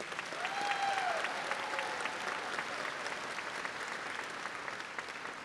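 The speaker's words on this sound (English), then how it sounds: "And let's give them one more round of applause," A high school graduation crowd gives graduating students a sustained round of applause, with dense clapping that swells early and then holds steady at a moderate distance.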